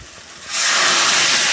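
Water poured into a pan of nearly fried dry vegetable curry bursts into a loud, steady hissing sizzle that starts abruptly and continues without a break.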